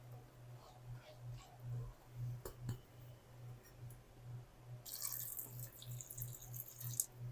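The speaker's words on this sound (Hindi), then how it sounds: "मिक्स करके इसमें हम थोड़ा सा पानी ऐड करेंगे।" A short stream of water poured into a tamarind pulp and black chickpea masala chaat mixture, a brief splashing hiss in the last few seconds over a steady low hum and faint ticks, with no talk.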